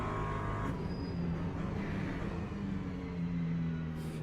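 LMP3 prototype race car in the Le Mans Ultimate sim racing game, a steady engine drone with shifting pitch as it drives on, fairly close and continuous, with no voices.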